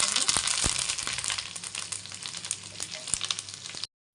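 Dried red chillies frying in hot oil, a steady close sizzle with scattered crackles and pops for about four seconds before cutting off.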